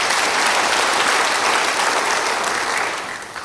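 Sustained applause from a church congregation giving praise to God, a dense steady clapping that holds loud for about three seconds before tapering off at the end.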